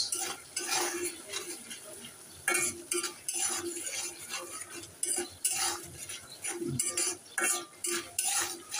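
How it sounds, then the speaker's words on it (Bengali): Dal puri spice mix with chili flakes being stirred and fried in a pan, repeated close metal spoon scrapes and clinks in an uneven rhythm over a light sizzle. "আবার এটাকে ভালো করে কষিয়ে নেব"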